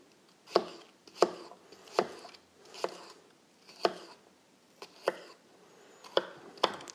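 A knife chops steadily on a cutting board, about ten crisp strokes at an even pace, fairly quiet and close, with no talking.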